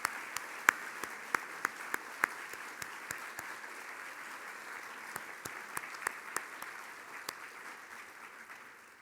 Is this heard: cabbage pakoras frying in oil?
no